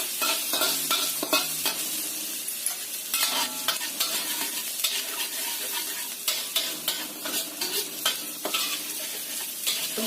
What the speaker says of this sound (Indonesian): Kita masukkan bawang putihnya. Tumis sampai agak kuning-kuning coklatan kayak gitu.